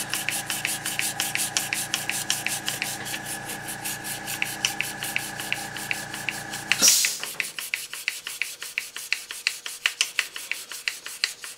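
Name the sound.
dry sanding paint with 600 grit paper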